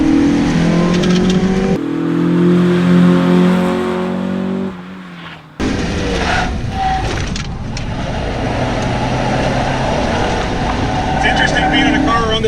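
A stock Mazda Miata drives hard around a race track. The engine revs loudly and rises and falls through gear changes, with a brief drop near the middle before the note returns steady under wind and road noise, and a voice speaks over it.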